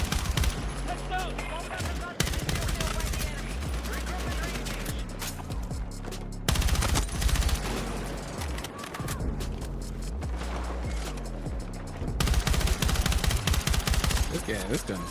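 Heavy gunfire in the shooter Battlefield 6, dense automatic bursts and repeated shots layered with explosions and battle noise, loud and nearly continuous, broken by brief lulls before new volleys.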